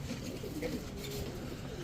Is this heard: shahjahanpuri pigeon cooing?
yes